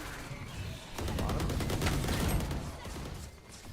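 Bursts of rapid gunfire from shooting enemies in the video game Valorant, dense crackling volleys that swell loud in the middle and then fade slightly.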